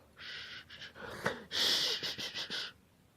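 Loud, rasping, drawn-out breaths of a monster in the video game Five Nights at Freddy's 4, harsh and wheezy with gasping, snorting bursts, close and monstrous in tone. No talking.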